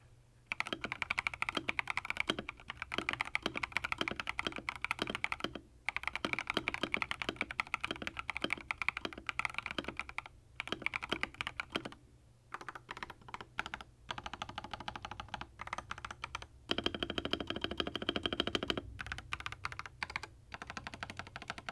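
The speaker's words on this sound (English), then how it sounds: "let's hear what the keyboard sounds like in its stock form" Rapid, close-up typing on a stock, unmodified Epomaker EP75 mechanical keyboard, crisp clacky keystrokes in bursts with short pauses and occasional heavier spacebar-like thocks.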